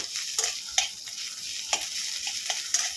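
Mashed rui fish and potato being stirred and mixed in a pan, with soft scraping strokes and several sharp spoon clinks in an irregular rhythm, close and fairly loud.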